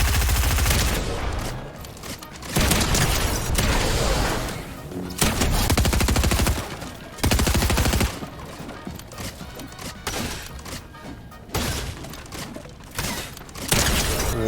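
Gunfire erupts in Fortnite on PS5 as sharp, loud bursts of shots in repeated volleys, separated by brief quieter gaps, close and dominant.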